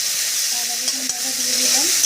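Salt and ginger-garlic paste fry in a hot pan for a hilsa fish curry, giving a steady close sizzle with light stirring scrapes and no talking.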